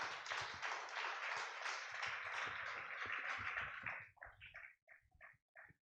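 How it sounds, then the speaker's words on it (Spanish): A church congregation applauds in a sustained, dense wave of clapping for about four seconds, then it thins to a few scattered last claps before silence, heard at a distance and fairly soft. "Dale un aplauso al Señor si lo puedes creer"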